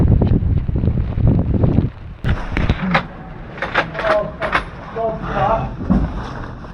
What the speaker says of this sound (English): That wind, mate, blew us everywhere.